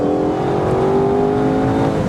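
A 2020 Aston Martin DBS Superleggera Volante accelerates hard, its loud, close engine note holding steady and then climbing smoothly in pitch across the whole stretch.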